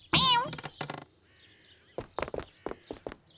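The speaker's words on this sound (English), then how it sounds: "He's a very bright cat, is Jess" A cat meows once, loud and up close, at the start of a children's animated episode, followed by a series of knocking, thumping sounds with a quiet gap between them.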